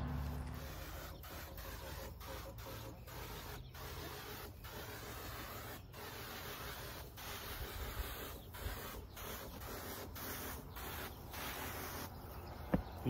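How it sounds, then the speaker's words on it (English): A battery powered backpack sprayer's pump runs quietly and continuously, a faint steady whir and hiss with light irregular ticks, nearby but low in level. "You can kind of hear the pump as it's working. It's fairly quiet though."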